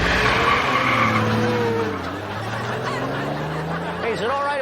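A car engine growling and tires squealing as it speeds off, loud and close, with a long rising-and-falling harmonic roar and a sharp squeal at the end, with a voice and laughter mixed in.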